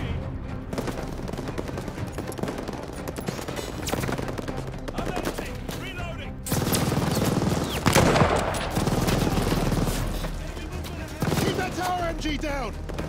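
Machine gun fire in the Call of Duty Vanguard campaign, sustained bursts and scattered gunshots with heavier blasts midway, soldiers shouting over the battle.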